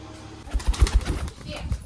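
Pigeons flap their wings in a short burst of soft, fluttering thumps near the listener, with a few faint background noises around them.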